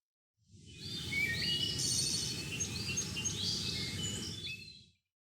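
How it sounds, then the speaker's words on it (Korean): Birds chirp and sing in a forest along a tree-lined walking path, a busy mix of bright overlapping calls over a soft steady rustle of wind, moderately close and without any talking. "새소리,"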